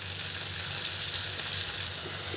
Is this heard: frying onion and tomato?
yes